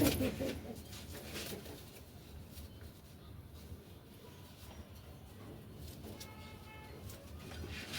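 A pair of red desi golla pigeons coo in a loft, with soft, low calls running steadily under a constant wash of room noise.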